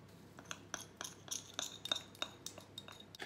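A utensil stirs melted chocolate in a bowl, giving a quick run of light clinks and scrapes against the rim, close and fairly quiet, with no talking.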